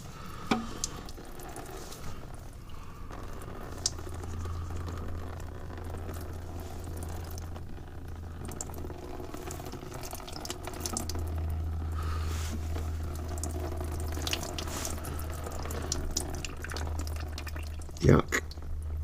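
Oily coolant draining and pouring from the coolant tank of a Ford Mondeo Mk3 with oil mixed into the coolant, a steady liquid trickle running under low background noise with a brief louder splash near the end.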